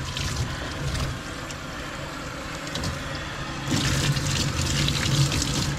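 Water runs steadily from a tap while a Newfoundland Landseer dog is washed, a close, continuous rushing splash that grows louder and brighter in the final couple of seconds.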